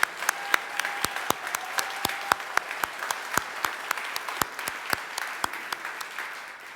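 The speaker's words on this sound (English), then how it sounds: "let's give them a round of applause" An audience claps for board members standing at a corporate event, a sharp, fairly sparse applause with distinct individual claps, fairly close and steady before thinning at the end.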